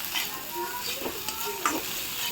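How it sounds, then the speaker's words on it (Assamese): Potatoes frying with onion, chilli, ginger and garlic in a pan, a soft steady sizzle with a few scraping stirs of a spatula, close and fairly quiet, with no talk. "আলু ভাজি আছোঁ পিঁয়াজ দি"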